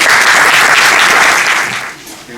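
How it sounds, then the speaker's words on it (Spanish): A close, loud burst of applause greets the Spanish Secretary of State for Housing at a housing-rights conference in Leganés, the clapping thick and even before it fades away near the end. "vamos a dar un fuerte aplauso a nuestro secretario de Estado de Vivienda, David Lucas"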